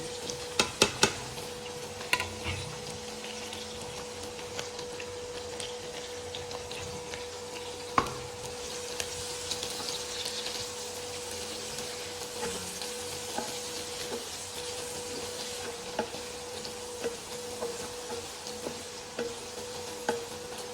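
Chopped green chilies and onions fry in a pan with a steady close sizzle, broken by a few sharp clinks of utensils against the pan early on and now and then after.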